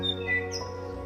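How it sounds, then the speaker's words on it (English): Forest birds, including tui, call from the heavily treed edge of Lake Tarawera in New Zealand: a few clear whistled and chirping notes ring out briefly over a low steady background hum. "we can hear those wonderful birds."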